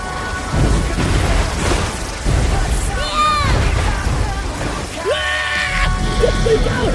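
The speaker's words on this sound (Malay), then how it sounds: "Letupan air." A water blast attack in an animated superhero film bursts loudly amid swirling effects, with shouting voices and tonal whooshes over a dense rumbling background.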